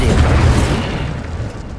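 Incendio fire spell being cast in the video game Hogwarts Legacy, a loud sustained whooshing, booming burst that fills the clip and slowly tapers, with no talk.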